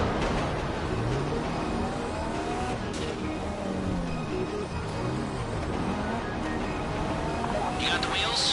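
A video game car engine revs and drones continuously with rising and falling pitch, held up close under a voice speaking throughout.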